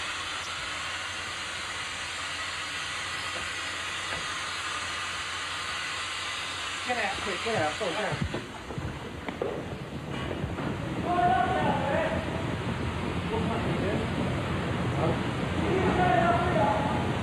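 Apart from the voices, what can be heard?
gas cylinders loudly hissing in a fire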